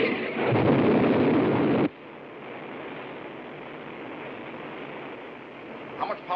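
An X-15 rocket engine fires at half throttle in a 1961 ground test, a loud broadband roar that bursts in, holds for about two seconds, then drops to a steady, quieter rumble.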